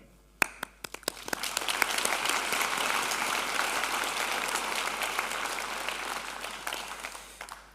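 A graduation ceremony audience applauds the new university graduates: a few scattered sharp claps open it, then the clapping swells quickly into full, sustained applause that carries evenly to the end.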